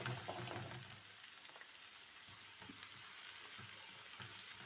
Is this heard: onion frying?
yes